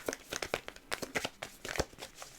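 A deck of tarot cards being shuffled by hand, a quick run of crisp riffling snaps and papery slaps up close, irregular and busy for a couple of seconds.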